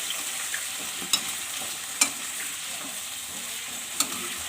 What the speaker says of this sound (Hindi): चलिए सब्जी फ्राई होगी तब तक हम चावल धो लेते हैं।